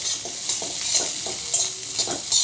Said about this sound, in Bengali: ডিমগুলো ঝুড়ো ঝুড়ো করে ভাজা হয়ে গিয়েছে